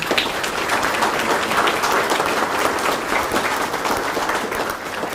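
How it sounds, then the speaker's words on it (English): An audience at an art show gives a steady round of applause, many hands clapping densely and evenly at a constant moderate loudness from start to finish. "we can give him a round of applause"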